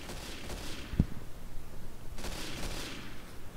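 Gunfire in the World War II shooter Day of Defeat, with one sharp sniper-style crack standing out over a steady background of distant battle noise and scattered shots.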